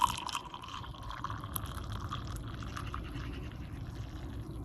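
Water poured into a coffee mug with a little milk already in it, a continuous close trickling fill that holds steady for several seconds, quiet and alone.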